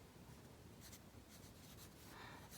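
Pen scratching across paper as a homeschool lesson plan is written out by hand, a steady close scribbling with brief strokes and pauses, no voices.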